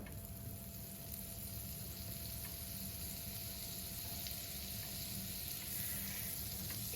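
Butter pieces frying in a shallow pan, a steady, faint sizzle that holds evenly throughout with no talk.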